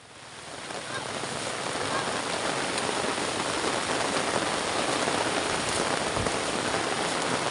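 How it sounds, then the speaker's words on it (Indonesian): Steady heavy rain pours over the Cikareo hillside trail, a dense continuous hiss that swells in the first second and then holds loud and even throughout, with no talk over it. "Karena ini hujan."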